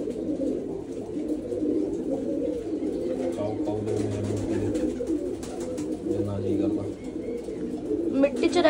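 Steady overlapping coos from a loft of breeding pigeons fill the space up close, with a few sharper calls near the end.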